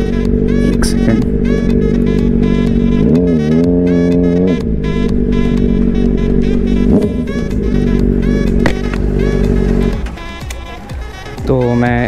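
A Honda CBR 600RR motorcycle engine idles loudly and close, rising in a few short revs, with someone speaking over it much of the time.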